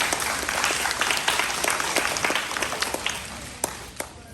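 A crowd applauds steadily, dense clapping that gradually thins out toward the end, with a few louder individual claps near the close.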